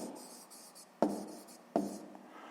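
Pen or pencil writing out a sixth-grade maths exercise on paper, a soft continuous scratching with two sharper strokes or taps about a second apart, close and quiet, no voices.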